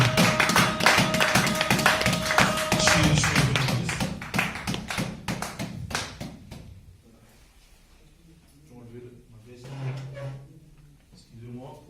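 A church congregation claps in a dense, fast burst of many hands that thins out over several seconds and gives way to scattered claps and voices.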